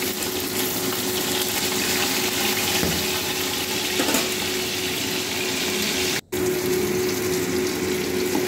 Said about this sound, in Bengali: এবারে মাছ ভাজা হয়ে গেছে, এবার উল্টে দেবো মাছগুলোকে।